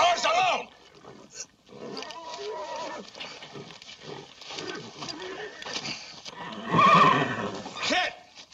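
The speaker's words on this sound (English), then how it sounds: "Let that horse alone!" A horse whinnies and neighs loudly amid a scuffle in a 1948 western film, with shouting voices and dramatic commotion around it and a strong neigh near the end.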